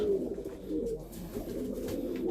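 Pigeons coo softly and repeatedly at a nest built outside a coop, low rolling calls that continue steadily and fairly close, with no talking.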